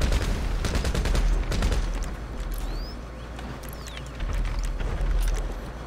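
Automatic gunfire in GTA V on PS5 crackles in loud rapid bursts, with a long volley at the start and another near the end, over a low rumbling game background and with no speech.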